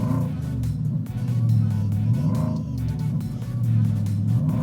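A supercharged V8 engine in a Ford Raptor truck roars loudly and close, surging in repeated revving swells with deep rumble, no talking.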